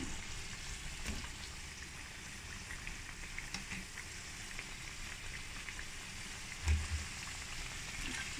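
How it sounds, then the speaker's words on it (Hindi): Potato ring samosas frying in oil, giving a soft, steady sizzle and crackle at low level throughout, with a brief low thump near the end. "हम अपने समोसे जो हैं इनको फ्राई करने लगे हैं।"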